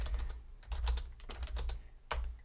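Rapid computer keyboard typing in bursts of close, clicky keystrokes with brief pauses between, loud and near, with no talking.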